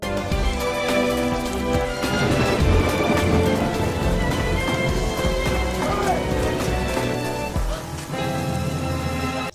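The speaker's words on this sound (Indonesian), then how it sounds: "Di tengah derasnya hujan," Heavy rain pouring steadily and loud, a dense continuous wash over a dramatic scene with a music score, no clear words spoken.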